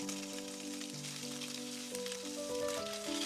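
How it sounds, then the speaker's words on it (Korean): Sliced Spam frying in about half a tablespoon of cooking oil in a pan, a soft, steady sizzle that stays quiet and even under light background music. "썰어 놓은 스팸 넣어주세요. 스팸을 노릇하게 구워주시면 돼요."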